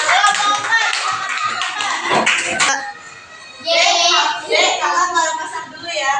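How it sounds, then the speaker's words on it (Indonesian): Schoolchildren in a fifth-grade class in Indonesia clap for a group, with sharp, quick hand claps mixed with children's voices; the clapping is loudest early, drops off, then a second burst of claps and chatter follows. "tepuk tangan untuk kelompok 3"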